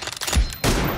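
Gunshots in a PUBG Mobile team deathmatch with M24 sniper rifles: a burst of rapid shots, then a heavy booming report, loud and close.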